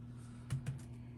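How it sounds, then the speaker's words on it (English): A few light keystrokes on a computer keyboard, two soft clicks close together, faint over a steady low background hum. "my bro's typing in nothing at all"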